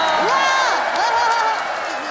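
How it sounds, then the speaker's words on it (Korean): Children's applause and cheering on a kids' TV show, a dense crowd clapping with gliding excited voices and whoops over it, loud and close throughout. "모두 박수!"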